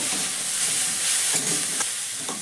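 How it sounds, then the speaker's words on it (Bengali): Grated vegetables stirred in a hot pan give a steady close sizzle and hiss, with a few soft scrapes from the utensil, alone without speech. "এবার ভালো করে আবার একটু নাড়াচাড়া করে নেব।"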